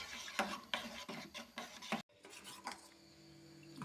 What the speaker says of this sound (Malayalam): എല്ലാം കൂടെ ചേർത്ത് നല്ലപോലെ ഇളക്കി കൊടുക്കാം